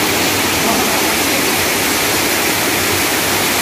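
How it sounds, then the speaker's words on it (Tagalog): Dara Falls waterfall pours in a loud, constant broadband roar with no break. No voices stand out above the rushing water. "Dara Falls! Yan."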